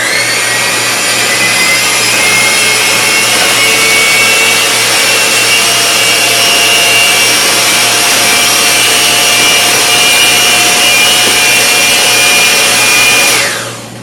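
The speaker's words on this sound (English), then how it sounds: "I'm going to use my mixer to actually blend this a little better" An electric mixer whirs steadily while blending lemon meringue pie filling, a loud continuous buzzing drone lasting the whole stretch before cutting off at the end.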